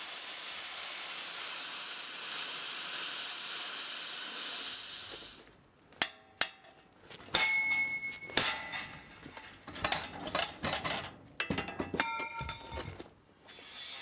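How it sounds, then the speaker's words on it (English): Oxyacetylene cutting torch cutting a circle in metal: a steady roaring hiss for several seconds, then after a drop in level a series of sharp crackles, pops and spatter bursts, fairly faint overall. "The oxyacetylene torch is used to first preheat, then cut out the circle."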